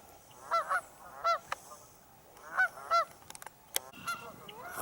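Geese that have come up on land honk in several loud, nasal calls, some in quick pairs, close by, with a few sharp clicks and softer honks in between and quiet outdoor background.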